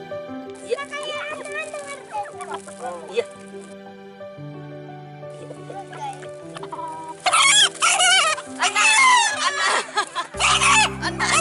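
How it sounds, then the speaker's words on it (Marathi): A rooster crowing loudly and repeatedly over background music, the calls growing stronger toward the end. "अण्णा अण्णा म्हणणारा कोंबडा"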